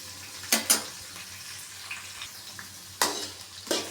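Onions, green chilies and garlic fry in oil in a pan, with a soft sizzle under a few sharp bursts of stirring and scraping near the start and end. No one speaks.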